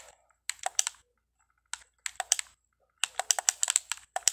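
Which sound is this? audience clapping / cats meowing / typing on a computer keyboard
typing on a computer keyboard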